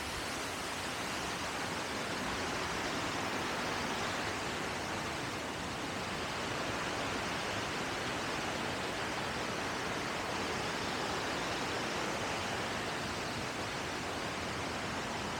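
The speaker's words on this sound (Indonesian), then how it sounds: "mungkin suara gua akan tersamarkan gemericik air ya" Water splashes and rushes at the Curug Papat waterfall in Sentul, a constant broadband roar that stays loud and close throughout with no talk.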